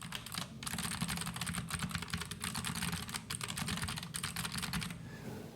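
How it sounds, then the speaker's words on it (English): Fingers type quickly on a Redragon 587-Pro mechanical gaming keyboard with loud, clicky switches. The dense, steady clatter is close and continuous, then stops abruptly near the end. "let's go ahead and give it a listen for clickiness."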